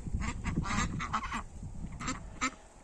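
Ducks on a farm call in several loud, nasal bursts, a run of overlapping quacks followed by two more separate calls, close by with no talk.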